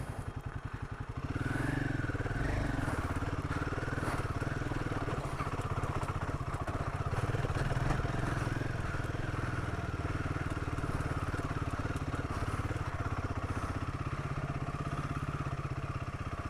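A motorcycle engine revs up and holds a steady throbbing drone while riding, loud and close with wind rushing past, no talking.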